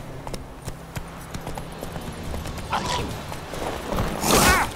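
A horse gallops in The Witcher 3, with a steady run of hoof clip-clops and creaking tack under game ambience, building to a louder burst of noise near the end.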